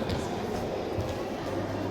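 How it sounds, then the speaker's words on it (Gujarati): A low, continuous rumble of a train engine on display in London's Science Museum fills the clip, steady and fairly close, with faint voices mixed in. "ટ્રેનનું એન્જિન."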